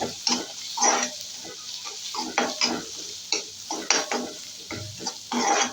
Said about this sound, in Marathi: जरा ऑइलमध्ये छान फ्राय करून घे सगळा मसाला.